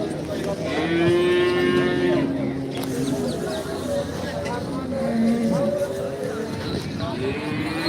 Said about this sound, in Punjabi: ਮੱਝਾਂ ਆਈਆਂ ਨੇ ਇੱਧਰ ਮੱਝਾਂ ਦੇਖ ਸਕਦੇ ਹੋ